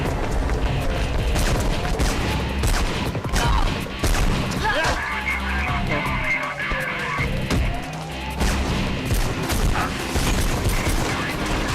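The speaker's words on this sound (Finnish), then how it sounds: "Näettekö millaista ammua?" Police open fire in the video game Mirror's Edge: loud bursts of gunfire and booming impacts mix with clattering mechanical noise and sliding sounds, continuous and close throughout.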